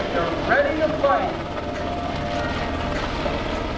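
A UH-60 Black Hawk helicopter performs at an airshow demonstration, its engine and rotor making a steady, broad roar throughout while an announcer talks over it.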